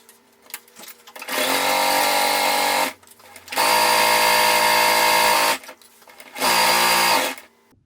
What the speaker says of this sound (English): we're going to lower our needle, lift our presser foot, pivot, and then we'll stitch diagonally to point 2